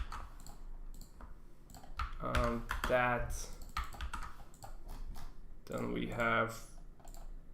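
Keys clatter on a computer keyboard in quick, irregular bursts of clicks close to the microphone, with someone talking over part of the typing.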